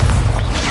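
A fire spell is cast in a Hogwarts Legacy battle, a loud, dense whoosh and crackling burst of flame with heavy low rumble that fills the whole short moment.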